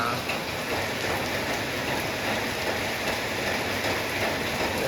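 Heavy rain pours in a dense, steady wash of hiss at close range, unbroken and loud throughout.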